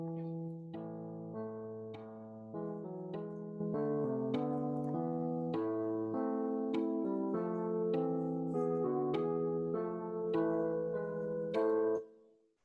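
Choral parts from a MIDI file play back in MuseScore as sustained synthetic tones, several voices holding chords and shifting note by note at a steady pace before stopping abruptly.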